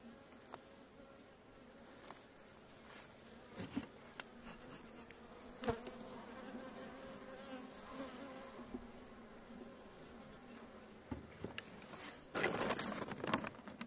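Honey bees drone steadily at an open hive in spring, a dense close buzz with occasional louder individual passes and faint knocks of frame handling, no talk.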